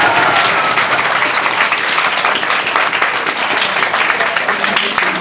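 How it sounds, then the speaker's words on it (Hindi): Students at a coaching institute give loud, dense applause that continues steadily, a thick wall of clapping from a large group with no gaps. "फिर एक बार जोरदार ताली बजाओ लोग के"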